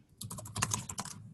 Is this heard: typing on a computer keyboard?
yes